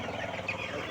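Hens of assorted colours cluck softly in a steady, faint murmur over low background noise.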